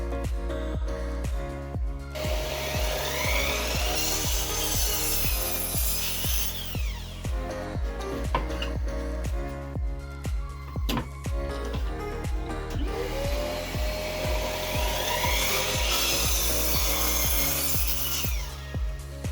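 A wooden board is sawn by hand for a miter cut, with steady rhythmic rasping back-and-forth strokes that are close and continuous and have no talk over them.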